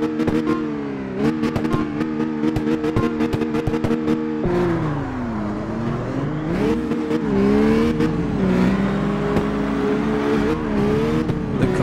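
A race car engine roars continuously in the CarX Street mobile game during a time-attack lap, loud and close, with the pitch rising and falling through repeated revs and gear shifts.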